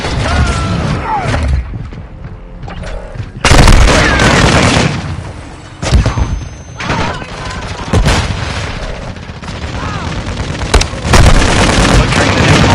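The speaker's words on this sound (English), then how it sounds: "Airstrike commenced." Airstrike explosions go off in Call of Duty Modern Warfare 2 during a hardpoint match. Loud booming blasts and bursts of gunfire come in a dense, irregular series, with sudden surges of noise between them.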